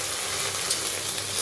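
Malabar spinach seeds frying in a pan with turmeric, salt and a little water, giving a steady, close hiss of sizzling with no voices.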